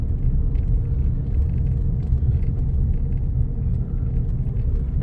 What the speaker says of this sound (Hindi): ऊपर देखो कितनी गाड़ी चलती हुई दिख रही होंगी